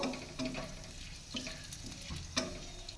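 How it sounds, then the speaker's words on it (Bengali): Whole cloves, cardamom and cinnamon sizzle in hot oil, a steady crackling fry with a few soft stirring clicks, close and alone. "তেলে গোটা গরম মশলা ফোড়ন দিয়ে দিব এর মধ্যে আছে লবঙ্গ এলাচ আর দারচিনি এটা দিয়ে ভালো করে ভেজে নেব"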